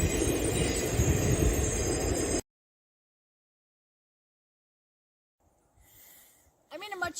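A train runs along a rail line nearby, a loud, dense rumble and clatter that cuts off abruptly after a couple of seconds, followed by silence and then faint, scattered outdoor noise.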